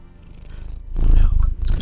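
A pet cat purring up close, a soft rhythmic rumble that swells louder partway through the short stretch.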